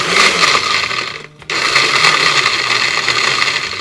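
Blender crushing ice for a cocktail, a loud grinding whir that briefly cuts out and restarts, then keeps running steadily and close.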